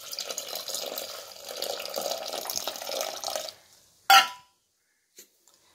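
Tamarind water is poured into an emperor fish curry while cooking, giving a few seconds of steady close pouring and trickling, then a sharp single splash or clunk and near silence.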